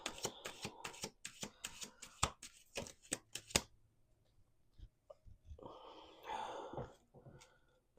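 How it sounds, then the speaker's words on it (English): Tarot cards shuffled by hand in a quick run of crisp riffling snaps, then a pause and a softer rustle of cards being handled up close. "Let's do 2 more shuffles."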